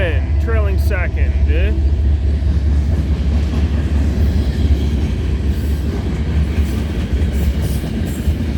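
A CN freight train led by the 3015 Veterans Unit rolls past at night, making a loud steady rumble with brief squealing tones near the start. A voice talks over it.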